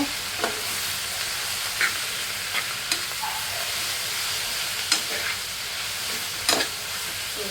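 Greens being stir-fried in a pan, a steady hiss of frying broken by occasional scrapes and clinks of the stirring spoon, close and continuous with no talk.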